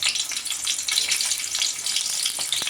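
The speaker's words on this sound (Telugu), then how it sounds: "చూసారు కదా టప టప అని శబ్దాలు వస్తున్నాయి" Eggs fry in hot oil seasoned with salt and chili, a bright crackling sizzle with rapid popping bursts, close and continuous, with no talking.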